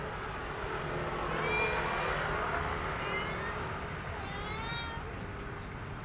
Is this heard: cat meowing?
yes